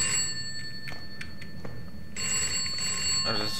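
In the video game Bokkie, a telephone rings with a sustained electronic bell tone, steady and moderately loud, carrying on through the whole stretch with a few soft clicks and a brief voice near the end.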